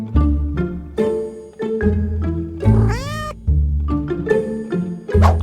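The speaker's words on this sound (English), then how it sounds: "I was working on the road and I swear I heard a cat" Cat meowing in Minecraft, a series of repeated meows in an uneven rhythm with one longer, rising and falling caterwaul in the middle, loud and close, with no other sounds or voices.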